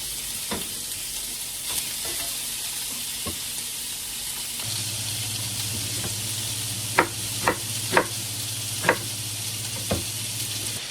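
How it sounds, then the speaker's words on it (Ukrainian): Salo, or pork fat, sizzling in a frying pan with a steady hiss. Sharp pops and crackles come out every second or so, and a low hum joins in partway through. "А поки я прожарую сало"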